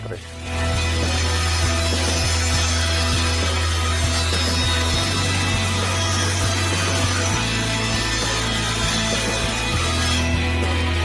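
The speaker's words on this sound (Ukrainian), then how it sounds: "Потім від неї відрізав бруски шириною 42 мм." A machine saw cuts 42 mm wide wooden bars, a loud steady whining drone that holds constant with slight shifts in pitch as the wood feeds through, heard close.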